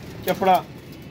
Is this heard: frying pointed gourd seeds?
no